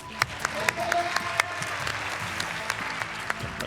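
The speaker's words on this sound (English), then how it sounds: "All right, give applause for Sebastian," Scattered applause from a school event crowd on Orange and Blue Day, with distinct sharp claps standing out over a softer wash of clapping and faint background voices.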